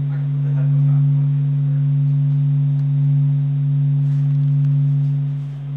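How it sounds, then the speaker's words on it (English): A steady low humming tone plays through speakers, loud and unwavering with a faint higher overtone, swelling gently in volume without breaks. "so it's just a nice humming sound"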